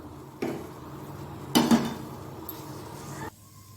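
A metal pot clanks down onto a stovetop with a short scrape, followed by a second lighter clink, in a quiet kitchen, before frying brinjal and potato.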